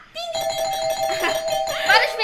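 Doorbell ringing in the video game Do Not Disturb, a sustained electronic chime tone held through most of the moment, with excited voices and game sounds chattering over it.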